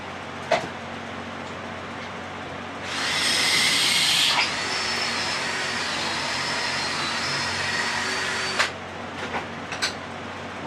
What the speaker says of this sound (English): I'm gonna try and drill all 3.